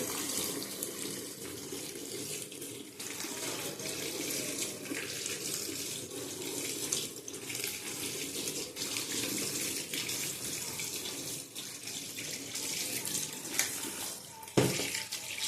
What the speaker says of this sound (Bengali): এটা ভালো করে ধুয়ে নিলাম।